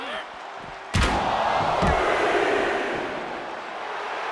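A wrestler slammed to the mat by a rolling fireman's carry in the WWE 2K24 video game: one sharp, loud impact thud followed by a short rumble, with crowd noise filling the background.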